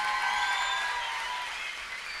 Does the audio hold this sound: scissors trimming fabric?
no